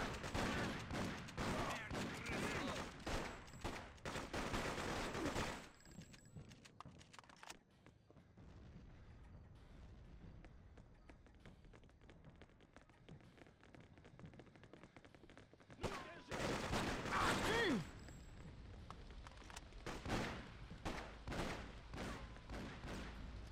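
Bursts of submachine gunfire crackle in the Freedom Fighters video game, dense volleys at the start and again near the end, with a quieter stretch of scattered shots and game ambience in between.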